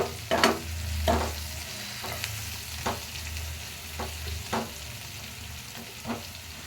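Egg curry masala with turmeric fries in a pan, a continuous close sizzle broken by repeated scraping stirs at a loose, roughly even rhythm, with no talking.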